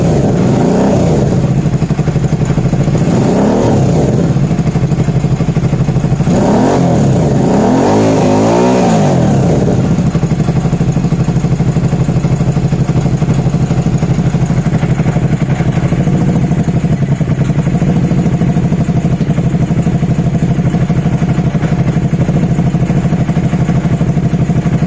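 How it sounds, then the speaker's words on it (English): A car engine rattles with the clutch out. Several rough revs come in the first ten seconds, followed by a steady, loud, clattering idle that runs close and continuous. "Rattling with the clutch out, dip the clutch, sounds better."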